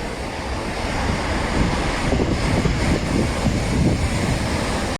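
Stormy coastal weather on an Atlantic island off Portugal at high tide: strong wind roars and buffets the microphone in a continuous loud rush, with crashing surf from big waves blended beneath, no talking.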